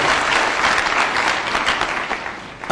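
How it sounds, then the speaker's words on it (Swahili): A stadium crowd at an interdenominational church service in Nanyuki applauds in a dense, steady wash of clapping that cuts off abruptly near the end, with no talk over it. "Mpigieni tena Ndende Nyoro makofi tafadhali."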